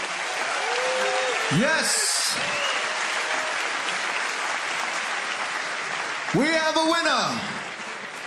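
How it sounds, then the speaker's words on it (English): A packed arena crowd applauds and cheers after a mixed martial arts bout between Ilir Latifi and Tony Lopez. The dense roar runs steadily throughout, and an announcer's voice booms over it. "Ladies and gentlemen, a big round of applause for both fighters here tonight."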